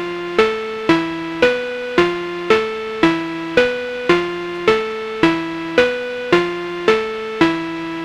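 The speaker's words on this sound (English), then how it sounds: "It's a very simple 4-note pattern played on a synthesizer." A synthesizer plays a simple four-note pattern dry, with no effects, repeating steadily with sharp attacks and quick decays, each note evenly spaced and loud, with no other sound.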